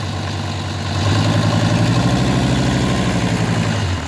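A Mercedes OM602 2.9-litre diesel engine idles steadily with a low, even clatter, growing slightly louder after the first second and holding a constant rumble with no voices.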